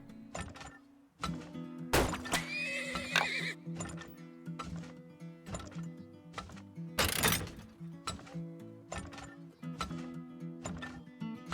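In the video game Turmoil, a horse walks back and forth with steady hoof clip-clops and two loud whinnies, set against a looping musical background and occasional clunks.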